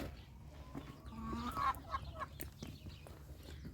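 Chickens cluck in short, scattered bursts, with one rising call in the middle, over a low background rumble; no talking.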